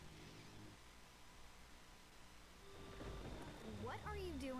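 Steady rain with low rumbling thunder in the video game Ben 10 Protector of Earth, a continuous soft wash that swells slightly louder toward the end, faint overall, with game voices talking over it.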